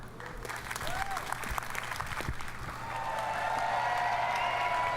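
Scattered audience applause at an EA Play E3 2016 press conference, a few hands clapping unevenly amid a steady crowd murmur, with a voice talking over it.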